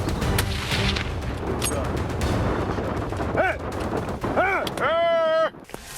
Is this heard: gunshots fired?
yes